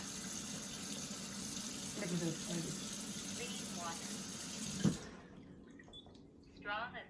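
Tap water running steadily into a sink to fill it for cleaning, a soft continuous hiss that cuts off sharply near the end, with someone talking quietly over it.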